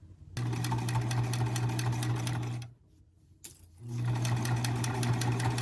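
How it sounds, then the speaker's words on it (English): Sewing machine top stitching a waterproof baby changing mat: a steady, fast mechanical whirr runs for about two seconds, pauses briefly, then resumes, loud and close with no talking. "it's also going to top stitch so it keeps everything in place and looking perfect"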